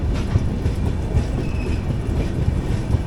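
The 22114 Kochuveli–Mumbai LTT Superfast Express rolls into Mangaluru Junction with a loud, continuous low rumble and rhythmic clickety-clack of wheels over rail joints, heard from on board.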